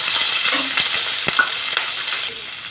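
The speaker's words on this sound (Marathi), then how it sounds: "आपण याच्यामध्ये कांदा कलपत्ता मिरची घालू" Onion, curry leaves and green chillies frying in a pan with urad dal, chana dal and peanuts for bread upma, giving a loud close crackling sizzle and brisk stirring clatter throughout, no speech.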